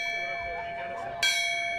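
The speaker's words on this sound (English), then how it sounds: "including the ringing of the bells." A bell rings once, clear and sustained, at a ceremony honoring fallen firefighters, after a faint, humming stretch.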